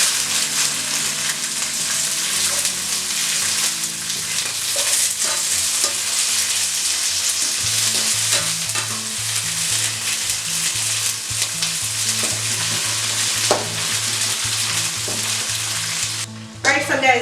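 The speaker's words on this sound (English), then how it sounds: "these are finished frying" Green beans fry vigorously in hot oil, giving a dense, steady sizzle close by with occasional stirring clatter and a low rhythmic thumping that begins partway through.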